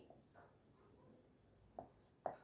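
Handwriting of grammar rules with a pen on paper, quiet faint scratching strokes with a couple of sharper taps near the end, no talking.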